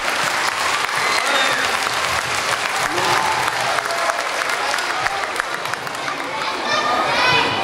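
An audience of children claps in a dense, continuous burst of applause that lasts throughout, with kids' voices and shouts mixed in, close and fairly loud.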